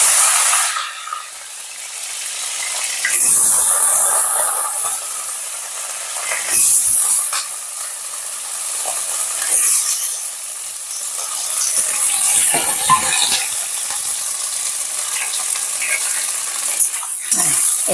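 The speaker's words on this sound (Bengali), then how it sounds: "সবজিগুলো একটু ভেজে নেব।" Mixed vegetables fry in oil tempered with broken green chilies, a loud, hissing sizzle that swells in bursts as ingredients hit the pan and settles into steady frying.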